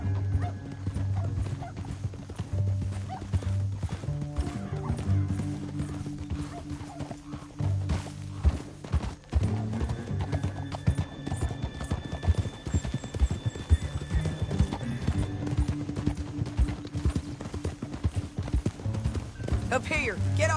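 Horses' hooves clip-clopping steadily in a video game scene, a continuous rhythmic patter under game music and a few spoken lines.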